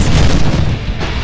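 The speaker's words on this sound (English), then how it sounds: "Heavy grenade launcher." A heavy grenade launcher fires in the Deadpool video game, giving a loud, deep boom that fills the whole brief moment with low rumbling blast energy and no talk over it.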